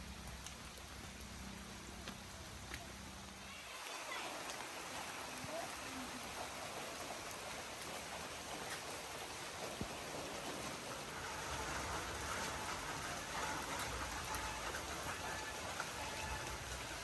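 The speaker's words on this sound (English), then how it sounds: "A beautiful walk in the rain at the end of the tour of Bigfoot Ancestral Museum." Rain falling on a walk outside the Bigfoot Ancestral Museum in Goa, a steady hiss of raindrops on surfaces, quieter at first and then filling in, with faint background voices.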